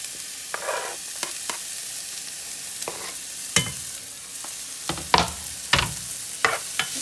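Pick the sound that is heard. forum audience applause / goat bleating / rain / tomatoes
tomatoes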